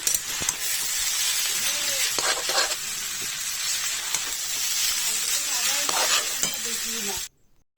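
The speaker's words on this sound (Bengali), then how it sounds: "আমার চাউমিনের জন্য ডিম ভাজা হচ্ছে" An egg fries for chowmein in a home kitchen, a loud continuous sizzle broken by repeated spatula scrapes and clinks, ending suddenly in silence.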